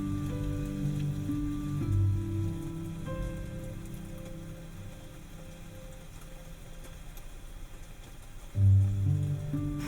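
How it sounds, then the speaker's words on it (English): Nature-sound rain played through the stereo of a 2024 Hyundai Palisade Calligraphy AWD fills the cabin as a soft, steady patter, with low tonal hum and cabin rumble underneath. "rainy day."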